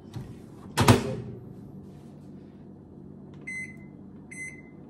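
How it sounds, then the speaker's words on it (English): A microwave oven door thumps shut near the start, followed by two short electronic beeps a couple of seconds later over a low hum as it starts. "we are gonna put it inside the microwave"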